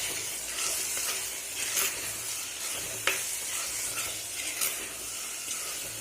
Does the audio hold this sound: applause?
no